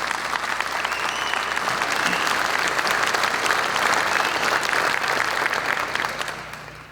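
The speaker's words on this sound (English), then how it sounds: "give them a round of applause" Sustained crowd applause at a fire department cadet graduation ceremony, a broad, continuous roar of clapping that stays loud for several seconds before tapering off at the end.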